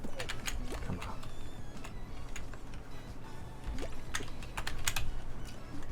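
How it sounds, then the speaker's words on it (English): Rapid, continuous clicking of keys on a keyboard, close and crisp, over a low steady hum. "Those ASMR keyboard sounds?"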